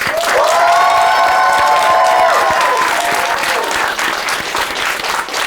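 Loud, sustained applause from a roast battle audience fills the room from start to finish, with a few shouted cheers rising above it early on.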